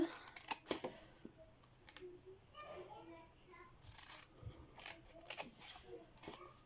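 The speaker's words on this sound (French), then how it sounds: "La même chose, on va couper celui de droite." Scissors snip through paper during a papercraft job making an explosion box, giving a run of short, sharp crisp cuts close to the mic, mixed with soft paper rustling while someone talks in French.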